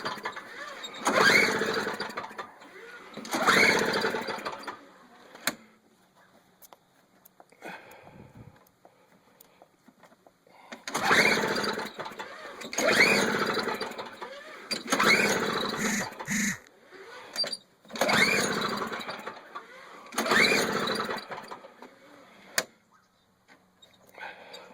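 A Toro two-stroke snow blower engine is pull-started repeatedly without catching: about eight bursts of rope-pulled cranking in paired groups, separated by quiet pauses.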